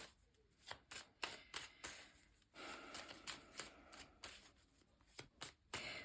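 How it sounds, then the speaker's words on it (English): Tarot cards being shuffled close up, a quiet run of quick riffling snaps and soft papery slides coming in irregular bursts, with no voices. "So I'm just gonna shuffle now to see what cards can tell us."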